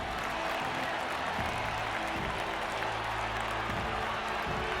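Crowd applause in the Metaphor: ReFantazio role-playing game, a dense steady wash of clapping held at even loudness for several seconds, with a low hum beneath and no voices.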